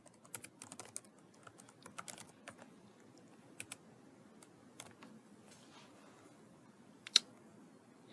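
A computer keyboard is typed on in short irregular bursts of light key clicks, close and quiet, with pauses between and a sharper click near the end.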